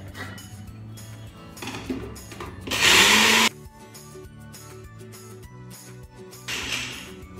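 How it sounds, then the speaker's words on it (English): A mixer grinder grinds ladoo ingredients with a loud harsh whir in one burst of under a second, plus a shorter burst near the end. Quieter clatter and handling noises fill the gaps. "So just put it in your mixer."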